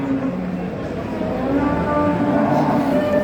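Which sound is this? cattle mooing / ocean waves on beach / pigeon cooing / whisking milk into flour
cattle mooing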